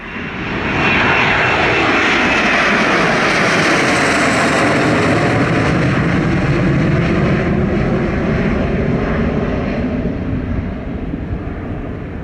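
Jet airliner at Montego Bay airport in Jamaica, a loud, steady roar of engines that swells and holds close by for the whole stretch, with no voices.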